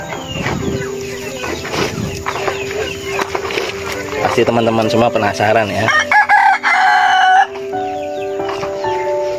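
Village chickens cluck and a rooster crows loudly nearby, with a person talking over the birds in between.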